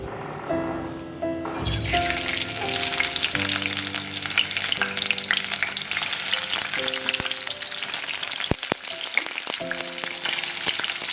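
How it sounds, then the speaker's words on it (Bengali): Crabs fry in hot oil for a Bengali crab recipe, giving a loud, steady sizzle that continues throughout. A melodic music bed plays underneath. "এবার তেলটা একটু গরম হলে কাঁকড়াগুলো ছেড়ে দেবো"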